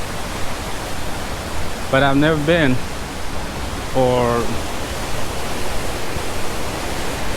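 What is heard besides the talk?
Jonha Falls waterfall in rainy season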